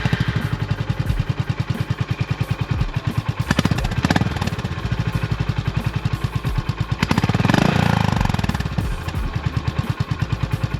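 A Honda motorcycle engine runs close by, a steady, loud, rapid firing pulse with a couple of brief throttle swells standing out from the idle, heard alone with no talk.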